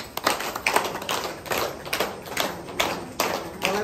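Applause at a birthday celebration: a small group claps in uneven, sharp bursts with irregular rhythm, fairly close, with faint voices in the background.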